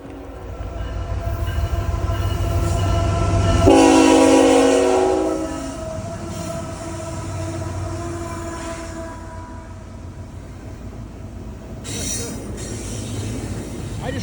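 A train rumbles past a railroad crossing near a quiet Sunday woodland trail in Dalton, loud and steady, with a horn sounding around the start and fading into a long rolling drone of cars on the track.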